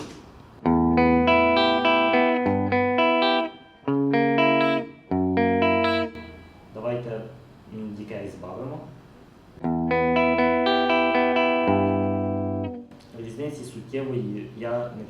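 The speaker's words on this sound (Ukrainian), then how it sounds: "Вмикаємо режим спрінг, тобто пружинового ревера. Знову ж таки без і з." Electric guitar played through a digital multi-effects unit in spring reverb mode, sustained chords and single notes alternating between dry passages and passages with a wetter, more diffuse reverb tail.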